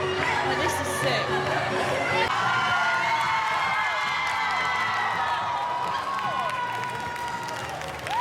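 A large crowd at a club in Italy cheers, claps and chatters steadily and loudly for several seconds, with scattered whoops and high shouts rising above the dense, continuous roar.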